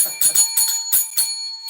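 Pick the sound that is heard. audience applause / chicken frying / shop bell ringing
shop bell ringing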